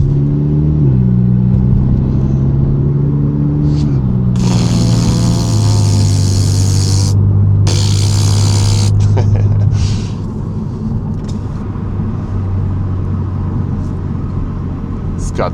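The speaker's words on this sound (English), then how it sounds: "Look at this guy's Datsun." A diesel Datsun with steel wide-barrel rims idles and revs nearby, its steady low engine drone shifting pitch a few times, with people talking over it throughout.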